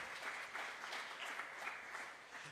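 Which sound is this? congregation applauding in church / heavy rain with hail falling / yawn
congregation applauding in church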